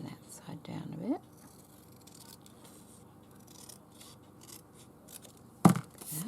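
Scissors snip through craft material in a few brief close cuts at the start and near the end, with a quiet stretch between.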